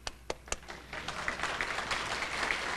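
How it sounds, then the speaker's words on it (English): Applause at a collegiate high school ribbon-cutting ceremony: a few sharp, isolated claps at first, then swelling into steady, fairly faint clapping from a modest crowd. "Sorry, I got applause for myself there."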